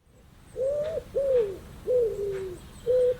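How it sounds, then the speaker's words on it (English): Pigeon cooing, four soft, low, rounded calls in a slow steady rhythm, close by, with a quiet background. "pigeon,"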